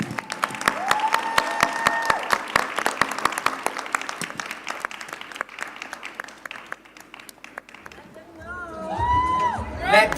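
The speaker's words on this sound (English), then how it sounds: "with a round of applause" Plenary audience applause and cheering as people are called on stage, steady clapping with background music tones, whoops and voices rising toward the end.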